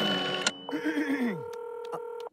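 An old-fashioned telephone is dialed in a cartoon, producing sustained electronic tones and short clicks and beeps over a couple of seconds, fairly close and clear.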